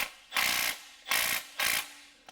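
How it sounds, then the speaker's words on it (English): A socket ratchet clicks through three quick, close bursts while tightening the bottom starter motor bolt on a Toyota Yaris, each pass a dense run of pawl ticks. "go ahead and tighten up our bottom bolt"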